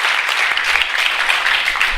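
Audience clapping at a motivational life-goals seminar, a dense, steady wash of many hands clapping at once, fairly loud and continuous for the whole stretch with no talking over it.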